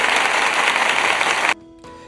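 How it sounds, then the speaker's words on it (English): Dense, steady applause fills the first second and a half, a broad even wash of clapping that stops abruptly and gives way to near silence and a faint tone. "Round of applause."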